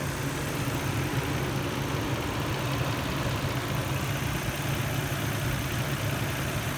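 A 2008 Nissan Xterra engine idles steadily at close range, a low continuous drone with a fine, even valve-train ticking running through it.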